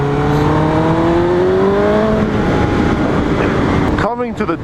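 A 2005 Suzuki GSX-R 1000 sport bike engine revs hard and loud through rising gear pulls on a test ride, with strong wind roar and a voice talking over it before a brief drop near the end.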